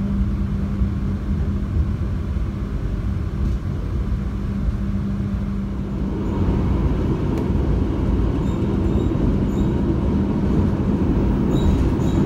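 Argo Dwipangga passenger train at Klaten station on a rainy afternoon, a steady low rumble of railcars with a hum that thickens and grows louder after the midpoint, continuous with no voices.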